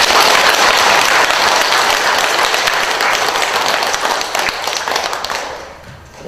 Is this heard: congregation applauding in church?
yes